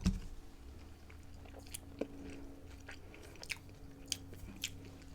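Close, quiet chewing of fast-food fries, soft crunches and wet bites scattered unevenly over a low background hum, with no talking.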